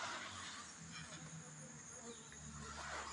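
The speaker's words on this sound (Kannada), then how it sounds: "ನೀವು ನೋಡಿದ್ರಿ ಈಗ ನೋಡಿ ನೊಣಗಳೆಲ್ಲ ಇವೆ ಹಾರಿಕೊಂಡು" Swarming insects, flies or bees, hovering around a split wooden beehive box outdoors, make a steady close buzzing drone that runs continuously without break or voice.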